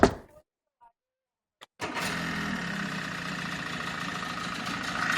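A 1995 Force 50HP Mercury outboard motor cranks briefly, falls silent, then fires up and settles into a steady, close, loud running idle.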